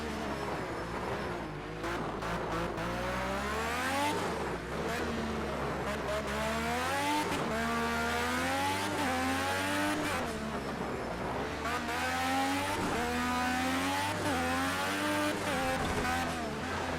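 Race car engines in Project CARS 2, a steady loud drone of revving and shifting engine tones rising and falling continuously, with occasional tire noise and no talk.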